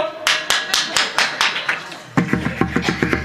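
An audience at a kirtan claps in steady unison, sharp rhythmic claps at a regular pace that tighten into a quicker, fuller beat partway through.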